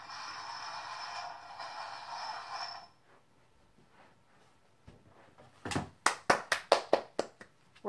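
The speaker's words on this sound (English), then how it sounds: "Round of applause, guys." A short run of sharp hand claps sounds close and distinct near the end, after a stretch of steady broadband noise and then near silence.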